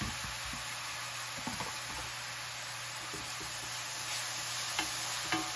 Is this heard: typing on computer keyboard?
no